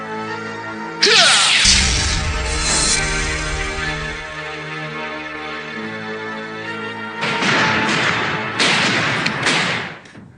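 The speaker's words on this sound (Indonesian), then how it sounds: "mendengar suara ledakan? Ya, keras banget." Two loud, crashing booms, one early and one near the end, burst over a sustained musical backdrop with a deep rumble between them.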